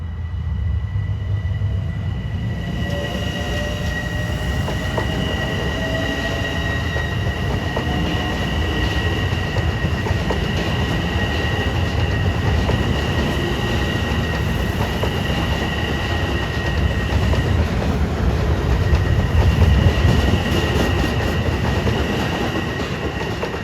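An LIRR commuter train on triple track near Queens Village rumbles past at twilight, with steady loud wheel noise, rail clatter and squealing tones throughout, no talking.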